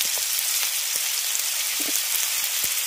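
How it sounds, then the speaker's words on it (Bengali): Sliced potatoes with turmeric and salt fry in hot oil in a covered pan, a steady, dense sizzle that stays even throughout with faint crackles. "ঢাকা দিয়ে আলুগুলোকে 3 মিনিট ভেজে নিচ্ছি।"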